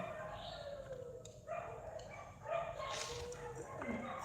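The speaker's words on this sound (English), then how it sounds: "Oh my God, this dog's barking." Dogs barking and yipping in the background, intermittent and somewhat distant, over a steady room hum with a voice talking.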